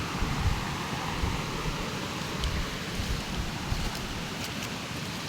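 Forest waterfall on a hillside trail at Phu Soda, a steady broadband rush of falling water heard alone and fairly close, constant throughout with no pauses.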